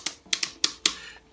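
Keys on a MIDI music keyboard are tapped five times in an uneven rhythm, each strike a sharp, close clack with a brief decay.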